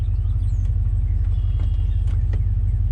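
A Chevrolet Suburban with a freshly replaced transmission runs steadily in drive, giving a close, constant low engine rumble with a faint hum above it and no speech.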